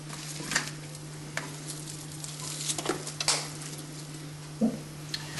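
Onions sizzle softly in a pan alongside orange honey chicken, a steady close fry with a low hum underneath and a few scattered clinks and pops.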